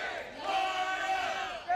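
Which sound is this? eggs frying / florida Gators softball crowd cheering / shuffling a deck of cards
florida Gators softball crowd cheering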